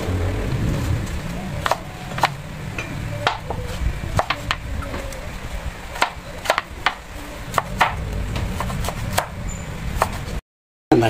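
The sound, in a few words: chopping carrots with a knife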